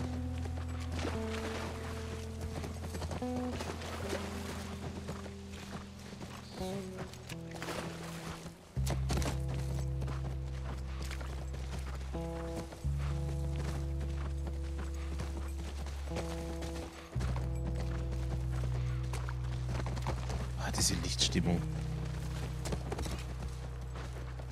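Steady clip-clopping of horse hooves in The Last of Us Part 1, walking at an even rhythm over a low game-music drone, with no talking.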